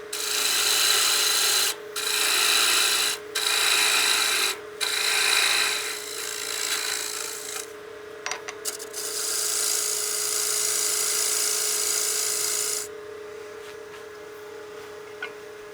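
A turning tool cuts wood on a lathe, removing the bulk of a utility box's foot with a loud, continuous rasping scrape and short gaps, then stops near the end; no one speaks.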